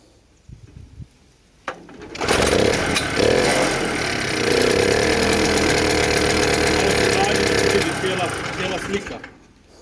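Gutbrod engine fitted with a Bing carburetor and new intake starts up and revs loudly and steadily for several seconds, a harsh buzzing drone that cuts off near the end, with brief talk and clunks before it starts.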